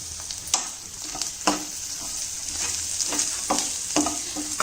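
Garlic paste and coriander powder fry in a hot pan for a South Indian boti curry, with a loud, close sizzle. Quick spatula strokes scrape through the spices at an irregular pace.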